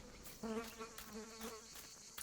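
A swarm of bees buzzing in the video game Martha Is Dead, a close, wavering insect drone that rises and falls for a couple of seconds, fairly quiet overall.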